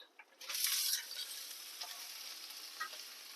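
Cabbage tossed into a hot pan sizzles steadily while being stirred, with a louder scrape and rustle at the start settling into a soft, continuous fry.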